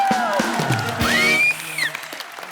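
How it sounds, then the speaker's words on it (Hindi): Studio audience applause on a Hindi TV comedy talk show, a steady wash of clapping under a voice that rises and falls over it, dropping off slightly partway through. "और उर्वशी की मम्मी जी के लिए और जोरदार तालियां"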